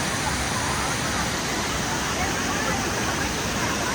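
Hogenakkal waterfall running full after rain, a steady broadband roar of rushing water that fills the whole stretch without pause, loud and continuous.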